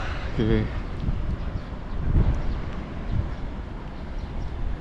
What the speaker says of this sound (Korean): 바람 많이 부네